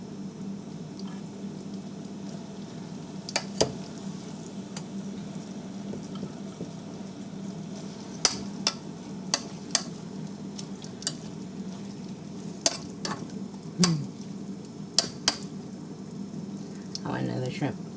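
Noodles, cabbage and shrimp for a low-carb Nicaraguan-style chop suey sizzle softly and steadily in a pan, with scattered clinks and scrapes of a utensil, and a voice speaking at times.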